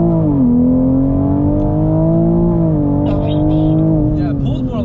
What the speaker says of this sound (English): I've actually never floored it in fully auto.